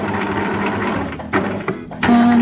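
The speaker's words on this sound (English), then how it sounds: "just right at the end, I like to reverse the stitching back a little bit" A sewing machine runs continuously, stitching the end of a fabric microwave curtain and reversing back over the seam, a steady close mechanical whir that briefly pauses and restarts before ending on a higher, steadier hum.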